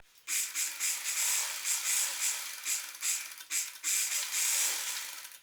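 A sewing machine stitching a girl's skirt, running steadily and close for several seconds with a fast whirring, slightly pulsing rattle and brief pauses.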